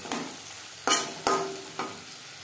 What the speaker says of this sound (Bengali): খুন্তির সাহায্যে যেভাবে একটু ম্যাশ করে দেবো